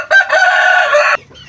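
A pet rooster lets out one loud, close crow lasting about a second, sharp at the start and cutting off abruptly into quiet.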